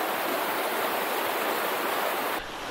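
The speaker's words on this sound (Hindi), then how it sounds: "झरने का पानी" Waterfall water rushing along a Himalayan trekking route, a loud, continuous broadband roar that holds steady and then drops off abruptly near the end.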